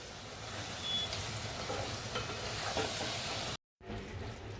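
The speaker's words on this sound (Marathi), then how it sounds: "हे चिकन चांगलं आपण जरा परतून घेऊया." Steady sizzling of meat frying in a pan, with a few light scraping stirs; the sizzle cuts out briefly near the end, then resumes.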